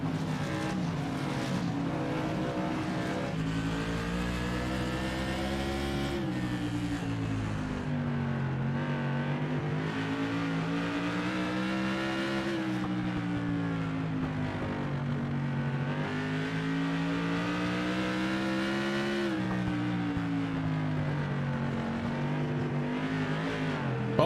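Modified race cars circle Hickory Motor Speedway in the iRacing simulator, with loud, continuous engine drone rising and falling in pitch as the cars accelerate and lift through the turns.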